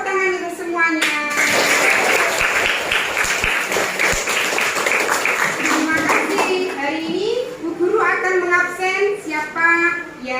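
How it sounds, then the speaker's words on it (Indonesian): Clapping rings out in a state elementary school classroom, with children's voices over it. The clapping is dense for the first few seconds, then gives way to children talking and chanting. "Tepuk tangan untuk semuanya."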